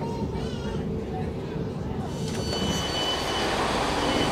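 A train pulling into Bristol Temple Meads station, with a steady rumble of wheels and rail noise that grows slightly louder, faint squealing in the upper range, and a voice briefly talking over it.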